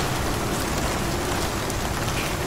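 Steady rain in the survival game ICARUS, a dense, even hiss of falling drops that holds unchanged and fairly loud throughout, with no voices.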